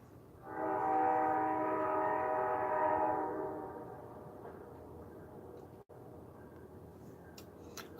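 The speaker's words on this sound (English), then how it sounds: "The trains are at it, guys." A passing train sounds one long horn blast that fades into a lingering rumble, then a low steady background.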